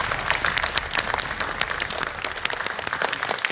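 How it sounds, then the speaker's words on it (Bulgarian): An audience at a talk on dinosaurs in Plovdiv claps in sustained applause, dense and fairly loud, a continuous crackle of many hands that holds steady from start to end without talk. "аплодисменти"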